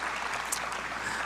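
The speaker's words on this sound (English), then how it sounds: "Let's give a round of applause to Pak Dino and friends." Brief burst of conference audience applause, an even wash of clapping at moderate level lasting just over a second.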